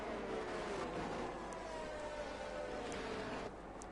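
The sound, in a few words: distant race cars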